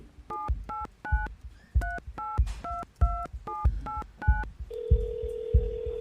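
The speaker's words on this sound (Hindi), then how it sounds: "मोनिका ने फोन उठाते हुए कहा।" A quick run of telephone keypad tones, about a dozen beeps in a row, followed by a steady ringing tone.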